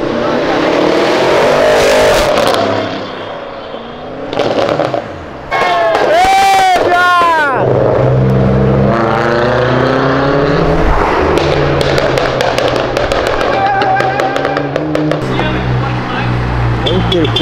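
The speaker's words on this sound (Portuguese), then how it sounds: "isso que você tá vendo na tela é um Ford Ka baratinha turbo. A gente gravou ele na arrancada" A turbocharged Ford Ka launches hard at a drag race start, its engine loud and close, revving through rising and falling pitch sweeps, with voices and crowd noise around it.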